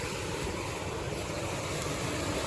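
Rushing water roars through the rapids of a brook swollen by winter flooding, a steady broadband wash that stays loud and unbroken throughout.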